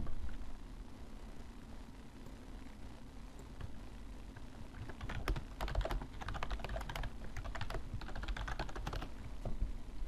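Rapid computer keyboard typing during a DDTank match, a steady low background hum throughout and bursts of dense clacking keystrokes picking up in the second half, close and moderately loud with no talking.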